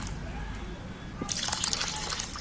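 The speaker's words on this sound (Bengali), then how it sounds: "চালগুলো আমি এই বাটির মধ্যে একটু ভিজুর দেব আধ ঘন্টা কি পৌনে এক ঘন্টা চালটা আমি জলে দিচ্ছি" Water poured into a bowl of rice to soak it makes a short, close splashing trickle that starts partway through over a low background rumble.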